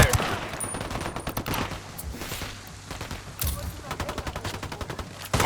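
Bursts of automatic gunfire crackle through a firefight in Ghost Recon Wildlands, rapid loud shots repeating in clusters across the clip with faint voices beneath.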